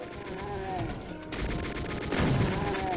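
Chaingunner gunfire in a Doom map, rapid automatic shots firing in dense overlapping bursts amid other game combat noise, loud and continuous with faint talk underneath.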